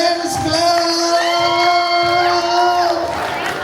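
Parents in the audience cheer and applaud for the IC Dance Club at an after-school activities showcase day, a dense crowd roar with shouted, whooping voices sustained throughout.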